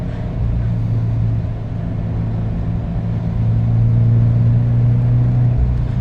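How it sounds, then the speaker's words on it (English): A Scion FR-S / Subaru BRZ with a valved exhaust rumbles steadily and builds toward a louder, deeper drone as it accelerates, with a throaty exhaust tone, no talking. "this exhaust, I mean, it's probably true for all exhaust, but it sounds better at the higher RPMs"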